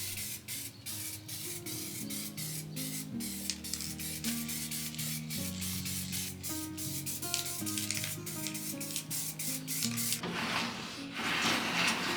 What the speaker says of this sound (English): Then I spray painted the print so that the silicone could cure properly.